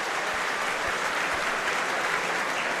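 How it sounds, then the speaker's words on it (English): Home supporters at a Hearts versus Tottenham Hotspur friendly football match applaud in a steady, dense wash of clapping from a large stadium crowd, continuous and even throughout. "Gets the applause from the home supporters as he trudges to the sideline"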